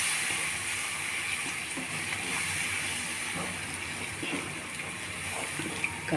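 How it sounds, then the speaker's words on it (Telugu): Water poured into a simmering curry in a pan for puri, a steady broadband gush and hiss running unbroken throughout, with a few faint clinks near the end. "ఇప్పుడైతే వాటర్ పోసేస్తున్నాను."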